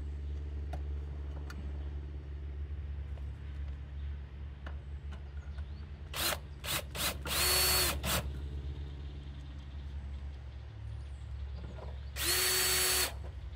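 A power drill drives screws into the cover of a Mr Cool mini-split condenser, giving several short, loud whirring bursts in quick succession midway through and one longer burst near the end, over a low steady hum.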